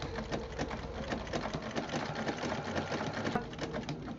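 A sewing machine stitching a quilted fabric coaster, a steady fast needle chatter running close and loud without pause.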